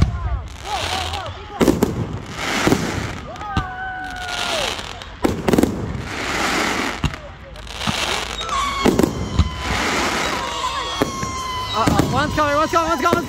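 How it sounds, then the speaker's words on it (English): Fireworks burst loudly and repeatedly over Loch Sport, sharp bangs and crackling at an irregular rhythm with whistling rockets rising between blasts, while excited voices shout over the display. "You don't see fireworks like this every day, ladies and gentlemen!"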